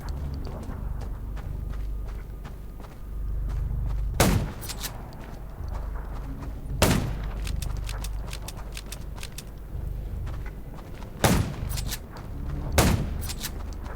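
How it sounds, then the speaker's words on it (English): Gunfire in the zombie survival video game Undawn: four sharp shots spaced a few seconds apart, scattered among lighter clicks and footstep-like taps over a steady low background rumble. "Gunshots will attract more zombies."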